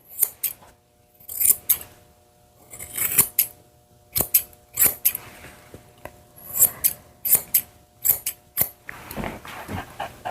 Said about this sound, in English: with my curved scissors, I'm going to trim right around